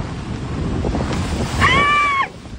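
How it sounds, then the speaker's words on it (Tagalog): Strong typhoon wind roars with big waves crashing at a municipal fish landing in Pio Duran, Albay, a loud continuous wash of wind and surf with a brief whistling tone near the end. "lumakas ang hangin at lumaki ang mga alon sa Municipal Fish Landing sa bayan ng Pio Duran sa Albay"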